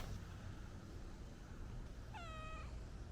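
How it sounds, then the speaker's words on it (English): A cat named Covey gives a single clear meow from on top of a tent, standing out over a steady low background hum. "the silly cat has gotten up on top of the tent"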